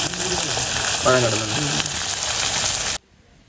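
Leeks and onion sautéing in a pan give a loud, steady close-up sizzle with constant crackling hiss that cuts off abruptly just before the end, leaving near silence.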